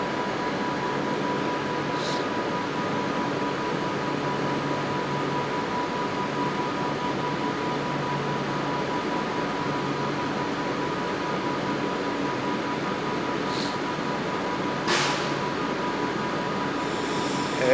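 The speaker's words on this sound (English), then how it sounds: "Off going now is 39132, a Avanti West Coast service to London Euston" An Avanti West Coast train departing Preston for London Euston, a steady loud rumbling roar of rolling stock from close by, with a couple of faint high squeals and a sharp click near the end.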